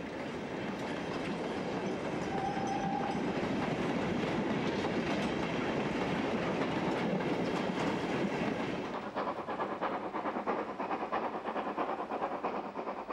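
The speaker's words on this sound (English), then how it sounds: "That distinctive three-cylinder beat is the sound of another heavy freight engine" A three-cylinder heavy steam freight locomotive climbing a gradient rumbles and chuffs steadily with clanking wagons, loud and close, the beat slightly easing toward the end.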